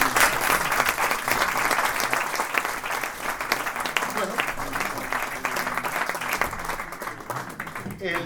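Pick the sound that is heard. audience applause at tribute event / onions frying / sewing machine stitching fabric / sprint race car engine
audience applause at tribute event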